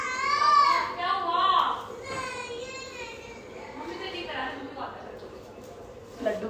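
A young child cries at home in a long wailing, sobbing stretch, loud and close at first, then settling into softer whimpering cries.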